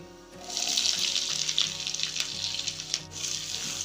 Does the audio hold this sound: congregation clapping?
no